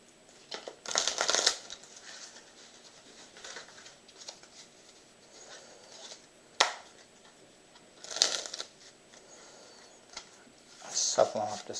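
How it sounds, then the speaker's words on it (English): A deck of Bicycle Irregulars playing cards is shuffled by hand in several quick riffling bursts with quiet pauses between them, close and fairly soft. "I guess I should shuffle these up a little bit more."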